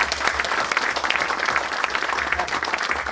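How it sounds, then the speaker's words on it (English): An audience claps in a full, dense round of applause that stays steady throughout, loud and close. "So give me a round of applause please"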